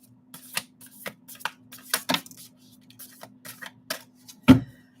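Tarot cards shuffled by hand, giving a series of short, crisp riffling and slapping bursts in an irregular rhythm, close and fairly loud in an otherwise quiet room.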